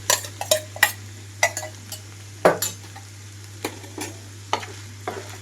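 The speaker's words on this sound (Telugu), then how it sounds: "ఇప్పుడైతే నేను ఇందులోకి ఉడికించి పెట్టుకున్న రైస్ మొత్తం వేసేసుకుంటున్నాను" Cooked rice is tipped into a pan of cauliflower and stirred, making scattered scraping clinks of a utensil against the pan over a soft, steady sizzle and a low hum, with no talking.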